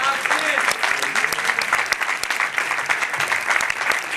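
A theatre audience claps for performer Massimiliano Fabianelli, dense sustained applause filling the hall at full volume throughout.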